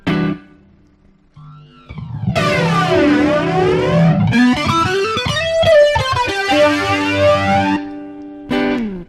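Heavily distorted electric guitar through a Boss GT-1000 effects processor plays sweeping, effect-laden notes with echo and warbling modulation, loud and close, with short pauses between phrases.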